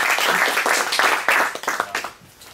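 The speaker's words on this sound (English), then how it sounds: "let's give them a big round of applause for everybody else that helped out." A San Francisco event audience gives a round of applause: distinct rhythmic claps, fairly close, building into a burst and then thinning out and fading toward the end.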